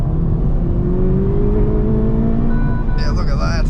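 A 2026 Honda Civic Type R engine climbs steadily toward its red line on a greasy road, a loud rising drone that ends in a brief higher whine. Speech is heard over it.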